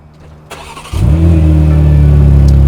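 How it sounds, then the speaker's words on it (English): A BMW G80 M3 Competition starts up: a brief crank, then the engine catches with a loud surge and settles into a steady, strong idle, close by with no talking. "And give your engine a start."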